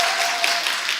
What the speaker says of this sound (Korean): 우리 박수합시다.